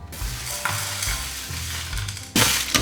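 Whole spices dry roast in a pan: cumin, fennel, green and black cardamom, cloves, cinnamon, star anise and peppercorns. A spoon stirs them in repeated scraping strokes with a light crackle, close and fairly loud.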